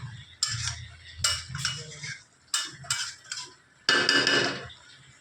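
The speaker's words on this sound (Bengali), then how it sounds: "খাসির মাংসটা রান্না হচ্ছে।" Mutton curry cooking in a pot, heard as bursts of metal utensil scraping and clinking against the pot, repeated at close range in an irregular rhythm with a brief louder stir near the end.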